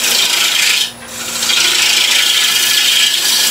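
A bowl gouge takes a roughing cut on spinning wood on a lathe, giving a continuous close scraping rasp that dips briefly near the start and then resumes steadily.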